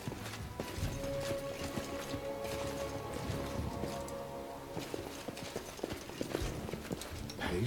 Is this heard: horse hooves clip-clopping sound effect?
yes